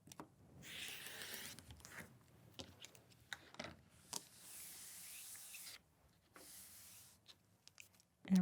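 Quilt fabric for a panel block trimmed on a cutting surface: soft, faint scraping strokes in several separate passes, broken by light ticks and quiet gaps.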